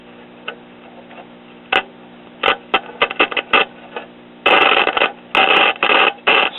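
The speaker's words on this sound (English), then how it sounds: "now I'm hearing nothing but static as I rotate the tuning" Crackling static bursts from a 1965 Arvin AM/FM tube radio, model 36R07, as its tuning is rotated with shorted tuning capacitor plates; loud irregular pops and rasping stretches come and go over a steady low hum.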